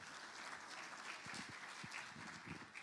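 Brief, moderately quiet applause fills the room from an audience in Indonesia honoring Dr. Laffer, steady clapping lasting a few seconds with low murmurs underneath.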